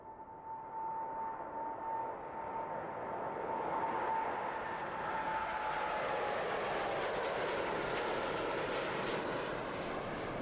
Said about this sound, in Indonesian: Pesawat pun melesat ke udara meninggalkan Jakarta